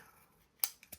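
Scissors snip through a thin strip of leather for a junk journal binding, two or three short, sharp close cuts in quick succession after a quiet moment, no talking.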